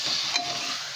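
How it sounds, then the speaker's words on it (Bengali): Chicken being stirred in a pressure cooker, a soft hissing, sizzling scrape lasting about a second with one brief clink, close and steady. "ব্যাস এই চিকেনটাকে নিয়ে একটু নাড়াচাড়া করে নিব"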